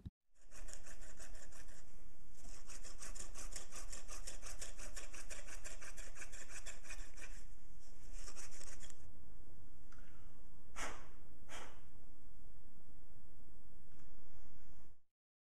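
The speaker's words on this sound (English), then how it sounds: "A small hand drill would have been used for fine drilling" Continuous rasping, grinding friction of a small hand drill boring into a stone bead, with a fast rhythmic back-and-forth texture, close and steady, easing briefly before resuming.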